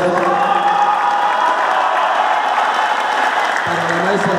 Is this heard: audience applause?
yes